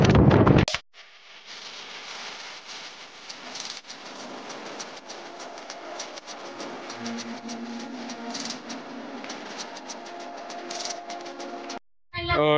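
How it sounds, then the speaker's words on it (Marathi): Cold wind sweeps across a hilltop fort, a steady broadband rush that gusts and roars for several seconds, with brief buffeting at the start and end. "एवढा वारा झाला आहे. थंडगार वारा सुटत आहे."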